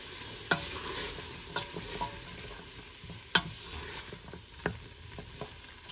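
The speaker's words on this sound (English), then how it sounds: "I'm gonna give it a good stir." A spoon stirs a homemade pot roast in its pot, with several sharp scrapes and knocks at uneven intervals over a quiet background sizzle, close by and without talk.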